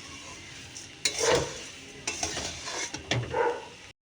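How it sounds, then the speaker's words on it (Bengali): Puffed rice being stirred and dry-fried in a pan over an outdoor clay stove, giving soft scraping and rustling strokes in a few bursts with a light sizzle, fairly close and without talk. "এবার এটাকে ভালো করে সুন্দর করে নেড়ে একদম ভেজে নেব"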